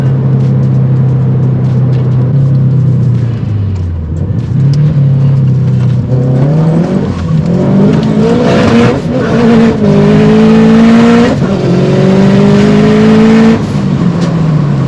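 A boosted Subaru FRS engine running 16 psi revs hard and loud, rising and falling through sustained pulls with a rough, strained tone, close and unbroken throughout.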